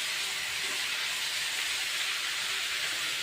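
Malabar spinach seeds cooking in a hot pan give a continuous, loud, even hiss throughout, with no breaks, clatter or voices.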